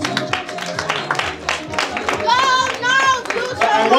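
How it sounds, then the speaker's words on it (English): Audience applause for an auction winner at a sports award gala night, sharp, fairly close clapping from a crowd with cheers and raised voices swelling partway through. "Can we give him a good round of applause?"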